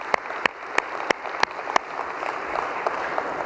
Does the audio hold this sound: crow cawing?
no